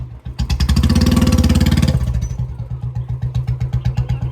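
A motorcycle engine running close by, revving loudly in a dense burst, then dropping to a rhythmic chugging idle with clear regular pulses.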